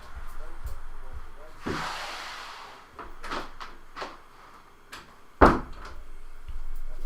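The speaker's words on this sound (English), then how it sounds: "I just had to shut that door." An indoor door is shut with a single sharp, close thud after a soft swish and some handling knocks, while a voice talks briefly nearby.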